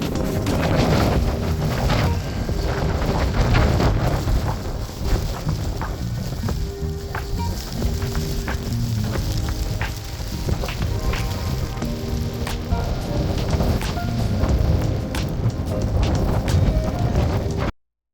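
Russian winter storm with strong wind buffeting the microphone and rain pelting surfaces, loud and continuous roaring with gusts throughout and no talk.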